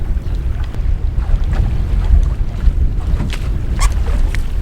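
Strong gusting wind on a lake, blowing over 20 mph, a loud steady roar with rumbling buffets and occasional sharper flaps from nearby water and gear.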